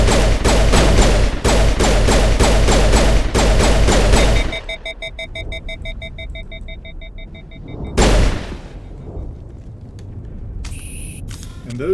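Hostile weapons in the Mass Effect video game fire loud, rapid bursts of repeated shots for about four seconds, followed by electronic pulsing tones and a single heavy boom.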